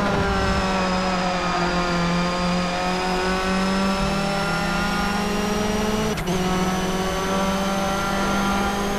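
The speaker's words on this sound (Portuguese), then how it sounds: "Esse carro tem um motor bem mais potente." A race car engine in the PS2 video game Toca Race Driver 3 drones loud and steady at high revs, its pitch holding nearly constant with a brief shift partway through.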